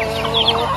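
Chickens clucking and calling close by on a small farm, a steady busy flock chatter with overlapping short bursts over the full clip, no talking.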